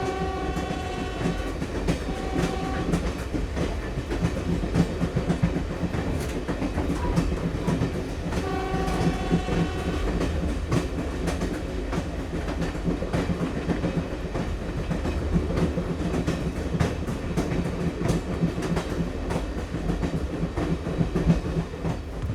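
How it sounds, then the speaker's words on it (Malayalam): A passenger train on the curving, hilly Punalur–Sengottai line runs at about 30 km/h, heard on board as steady clickety-clack and rumble, with horn blasts near the start and around eight seconds in. "വലിയ വളവുകളും കയറ്റങ്ങളും ഇറക്കങ്ങളും ഉള്ളതിനാൽ മണിക്കൂറിൽ 30 കിലോമീറ്റർ വേഗതയിലാണ് ട്രെയിൻ സഞ്ചരിക്കുന്നത്"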